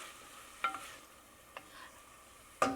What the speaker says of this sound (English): It's no longer a higher pitched sizzle. It's not a pss, but it's more of a psh.